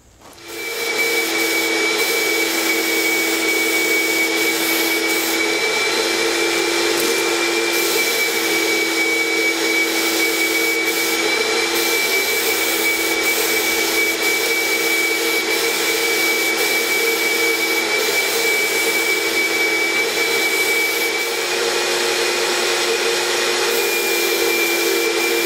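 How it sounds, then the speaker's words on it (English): A Fuji HVLP4 turbine sprayer applies General Finishes Enduro sanding sealer on a bathroom mirror build, giving a steady, loud, unbroken whooshing drone with a constant whine, starting abruptly and running alone to the end. "we have our Fuji HVLP4. We've got it full of General Finishes Enduro sanding sealer."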